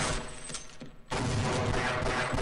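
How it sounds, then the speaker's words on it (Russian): Dense, rapid gunfire roars continuously with a short dip midway, loud and close, like a chaotic firefight, in the Half-Life mod Smart Decoy set in an underwater Black Mesa. "Началась пальба."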